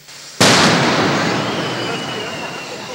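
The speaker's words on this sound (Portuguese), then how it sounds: "Por precaução, depois de examinar a mala, os policiais decidiram pela explosão." Police controlled explosion of a suspicious suitcase left beside a synagogue: one sudden, loud blast that rings out and decays slowly into a long, broad rumbling tail.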